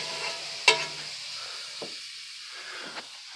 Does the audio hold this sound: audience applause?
no